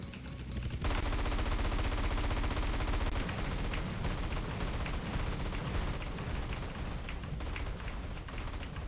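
Sustained in-game gunfire from GTA San Andreas online multiplayer, a dense, continuous clatter of rapid shots and loud action noise filling the whole stretch with no let-up.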